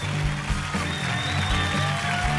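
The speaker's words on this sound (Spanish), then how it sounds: "¡El aplauso a RBD!" A studio audience applauds the pop group RBD, loud continuous clapping with cheering voices layered over it.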